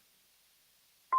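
A mobile phone gives a single short electronic two-tone beep in a quiet council meeting room, sounding suddenly after a long stretch of near silence.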